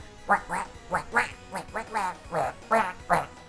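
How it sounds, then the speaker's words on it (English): Duck quacking woven into the Oil Desert Act 2 music of a Sonic video game, a loud, nasal quack repeating roughly every third of a second in a steady rhythmic run. "like Oil Desert Act 2, which has them stomping on Donald Duck's throat every second"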